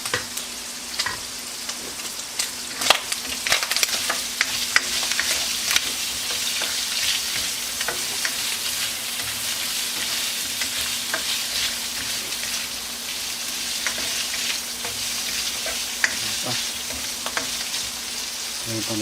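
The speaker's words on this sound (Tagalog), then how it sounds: "Maingay yung kawali." Pancit canton and bihon noodles frying and being stirred in a loud wok over oil, a steady sizzle with scattered clatters and scrapes of the utensil throughout, close and continuous.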